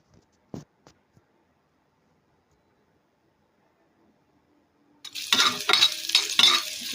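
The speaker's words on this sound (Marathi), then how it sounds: "इथे आपण कांदे परतून घेऊयात." Onions sautéed in a pan with garlic and potatoes, a loud sizzle and stirring that bursts in after about five seconds of near silence with a few light clicks.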